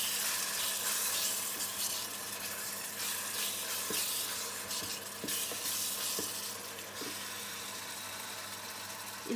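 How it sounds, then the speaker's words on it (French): Ingredients and chicken stock stirred in a sizzling pan for yam with turmeric and tilapia, a steady close frying hiss with scraping and occasional soft knocks throughout. "add all the ingredients and the chicken stock. And then mix"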